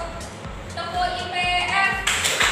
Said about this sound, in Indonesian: kita bermain tepuk dulu ya